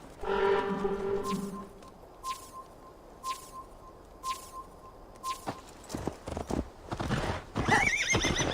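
A horse in Assassin's Creed Valhalla gives a loud, clear whinny, followed by hooves clip-clopping and shuffling nearby, with faint ambient game sound underneath.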